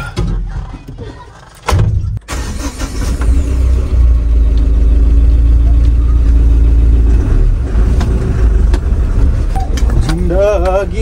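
Engine of a pickup truck driving in a village, a steady loud rumble that builds and holds across the clip, with a brief thunk early on and a voice or music near the end.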